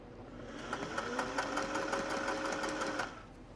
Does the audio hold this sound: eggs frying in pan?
no